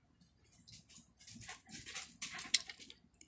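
Dog nearby making soft whimpering and snuffling sounds with light pattering movement, quiet and irregular, in short bursts growing a bit louder toward the end.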